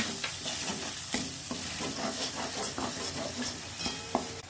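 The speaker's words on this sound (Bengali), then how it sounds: "এটাকে আমি একটু ভালো করে কষিয়ে নেব" White mustard paste and poppy seed paste sauté in a pan for shukto, a soft, even sizzle with repeated stirring scrapes and light taps throughout.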